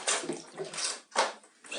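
Water splashes and pours in bursts while a cat is washed, several short wet swishes separated by brief pauses, close and moderately loud.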